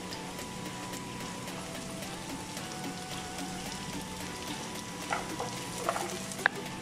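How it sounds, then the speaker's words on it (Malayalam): Sliced onions and dried chillies fry in a pan for dragon chicken, giving a steady, close sizzle with a few sharp stirring clicks near the end. "ഇനി നമുക്ക് കട്ട് ചെയ്ത് വെച്ചിരിക്കുന്ന സവാള ഇട്ട് കൊടുക്കാം."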